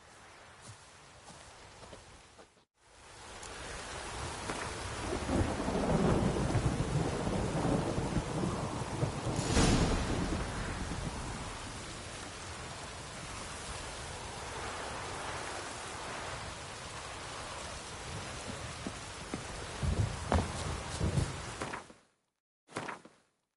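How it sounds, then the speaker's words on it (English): Heavy rain and rolling thunder in The Witcher III: Wild Hunt, a loud, continuous downpour roar with deep rumbles swelling and fading over about twenty seconds, ending in abrupt quiet. "No use doing any work in this rain."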